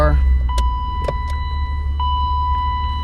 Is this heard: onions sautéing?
no